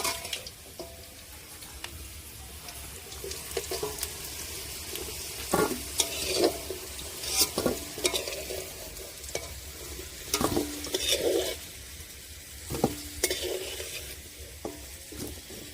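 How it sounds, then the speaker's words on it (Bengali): Fried potatoes being stirred in hot oil in a kadai, a continuous sizzle broken by scraping, clattering spatula strokes at irregular intervals, close and fairly loud throughout. "বন্ধুরা আলুটা ভালো করে ভেজে নিয়েছি এবার আলুটা তুলে নেব"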